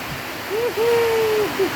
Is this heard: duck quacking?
no